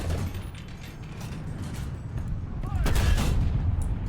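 Tank cannon firing in a tank combat video game, a heavy booming shot amid rumbling engine and battlefield noise, loud and close, with no voices.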